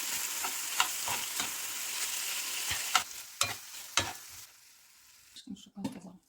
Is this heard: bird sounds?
no